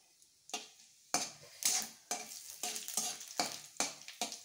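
Mustard seeds, bay leaf, dried chilies and cumin crackle and sizzle in hot oil, with sharp repeated bursts as they are stirred, loud and close with no talk.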